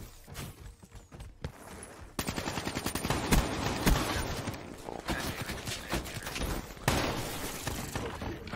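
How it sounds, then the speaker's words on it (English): Rapid gunfire rattles through a Call of Duty Black Ops 3 match, with a few scattered shots giving way to sustained bursts of automatic fire and sharp cracks over a busy game soundscape. "why are you shooting at him from a goddamn distance? You have a goddamn shotgun."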